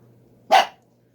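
A single sharp bark from Molly, a pet dog, rings out once at close range against an otherwise quiet room.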